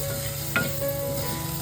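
Masala, fried onion and tomato are stirred together in a clay pot over a soft continuous sizzle, with one brief scrape of the spoon. It is close and quiet, and no one speaks.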